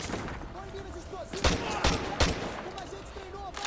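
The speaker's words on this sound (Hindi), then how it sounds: "अबे फायर कहाँ से हो रही है?" Gunfire in Call of Duty, a few loud separate shots cracking close by over a background of game ambience and distant chatter.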